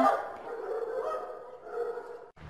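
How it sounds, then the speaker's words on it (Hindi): A dog barks in a continuous, rough, honking run of calls that rises and falls without clear gaps, fairly close and dominant, then briefly cuts off near the end. "कुत्ते के भौंकने की ध्वनिया"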